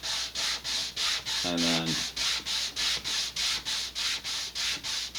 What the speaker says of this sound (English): I'm going to grab a big piece of sandpaper and I'm going to take the burrs off.